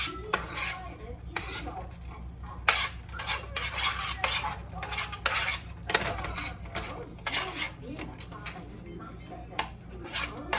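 Fried egg and vegetables are stirred into rice in a pan for the Blue Apron sweet chili glazed pork meal, with repeated close scraping strokes of a utensil on metal over a faint sizzle.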